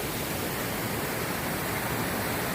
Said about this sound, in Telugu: మొత్తం అదంతా సెర్చ్ చేయగా నాకు ఇక్కడ దొరికింది పెద్ద వాటర్ ఫాల్